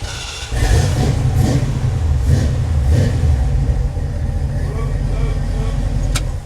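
A car engine turns over, catches and runs at a steady rumbling idle with slight revving, loud and close throughout, with people talking over it and a brief high metallic ping near the end.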